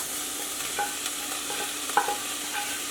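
Hamburger meat and onions sizzling in a pan, a continuous crackling fry broken by occasional scraping stirs and a sharper clink near the end, close and moderately loud with no speech.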